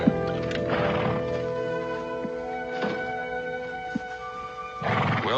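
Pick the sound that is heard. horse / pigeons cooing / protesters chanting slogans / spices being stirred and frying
horse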